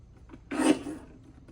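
One quick rasping slice as a paper trimmer cuts a strip of scrapbooking paper, short and fairly quiet against a still room.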